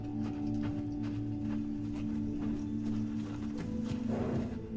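Horse hooves clip-clop in a steady walking rhythm, moderately close, over a sustained low tonal musical drone from the 2013 film The Lone Ranger.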